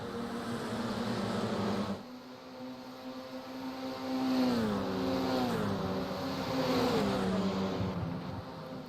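Formula 4 race cars at the Monza circuit scream past in high revving engine notes that rise and fall with gear changes, dropping out briefly before several cars return, loud and close.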